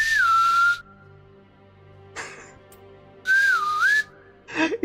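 Two separate wavering whistled notes from a character voice line in the horror game Sker Ritual, each dipping then rising in pitch, separated by a short gap with a faint rustle, followed by a brief burst of game noise.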